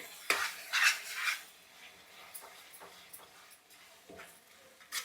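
Curry being stirred in a pan right after ordinary red chili powder goes in, giving a few scraping strokes near the start, then soft intermittent scrapes and faint sizzling at a moderate distance, with no talking.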